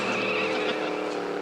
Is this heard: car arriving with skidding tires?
yes